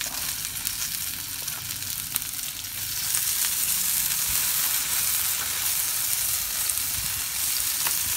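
Samgyupsal pork belly frying in a hot pan just after being flipped, giving a continuous crackling sizzle that grows a little louder partway through, with no talking over it.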